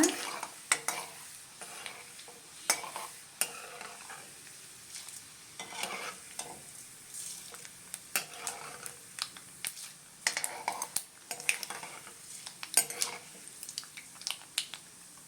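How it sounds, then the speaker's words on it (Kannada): Urad dal and chana dal fry in oil in a pan, a soft steady sizzle broken by frequent scraping clicks of a spoon stirring against the metal, close up and alone without talk. "ಅರ್ಧ ಸ್ಪೂನಷ್ಟು ಉದ್ದಿನಬೇಳೆ, ಅರ್ಧ ಟೀ ಸ್ಪೂನಷ್ಟು ಕಡಲೆಬೇಳೆ, ಇಷ್ಟು ಫ್ರೈ ಮಾಡ್ಕೊಳ್ಳೋಣ."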